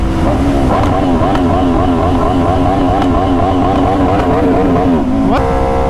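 An Aprilia RSV4 superbike engine screams at high revs while riding fast, a loud, sustained, close-up wail with rising and falling pitch and a sharp shift near the end.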